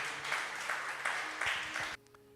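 Applause from a church congregation: dense, steady clapping that carries on for about two seconds and then cuts off abruptly, leaving a quiet room.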